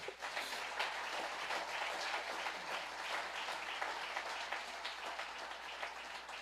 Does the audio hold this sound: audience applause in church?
yes